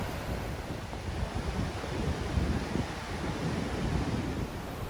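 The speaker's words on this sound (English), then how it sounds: "come down to the beach here in the Philippines, in Siargao Island" Steady waves and wind on a beach on Siargao Island in the Philippines at sunrise: a continuous close rumble of surf mixed with gusty wind buffeting the microphone, with no voices.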